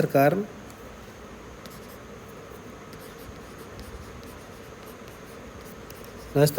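Pen on paper writing out a Hindi notice, a faint, continuous scratchy stroking with small irregular ticks, with a short burst of talking at the start and again at the end.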